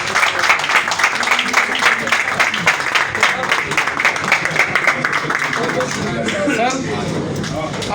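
An audience at a gathering gives a standing ovation, with dense, continuous hand clapping filling the room while a voice talks over the applause.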